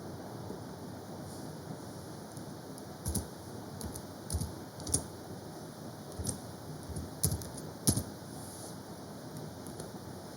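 A computer keyboard is used to enter data into MS Word 2007, with sparse, scattered key taps and small clusters of clicks against a quiet background hiss, close and moderately soft.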